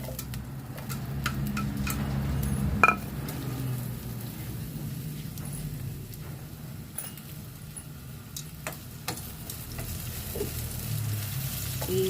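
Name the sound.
onions sautéing in a pan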